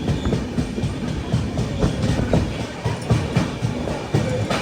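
A Weekly Express sleeper-class train from Madgaon to Ernakulam rolls toward Thrissur with a loud, steady rumble and rhythmic clickety-clack of wheels on rail joints, heard from inside the coach.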